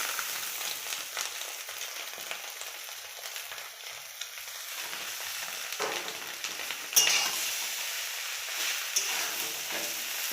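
Chow mein noodles tossed with egg in a hot pan for an egg roll filling, giving a steady, close sizzle with scraping spatula stirs throughout and a brief louder clatter midway.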